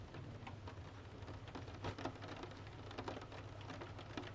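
Steady rain falls in a soft, continuous patter with occasional denser bursts of drops, an even wash of sound at low volume and no voices.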